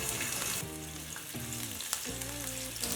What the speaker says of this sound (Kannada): 1 ಹಸಿಮೆಣಸಿನ್ಕಾಯಿ ಹಾಕ್ಕೊಳ್ಳೋಣ, ಹೆಚ್ಚಿದ್ದು ಸಣ್ಣಕ್ಕೆ.